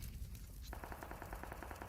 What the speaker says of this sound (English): They're taking fire.